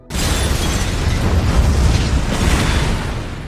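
A loud, sustained blast of a car explosion in an action film, a broad roaring rumble that starts abruptly and stays heavy for several seconds.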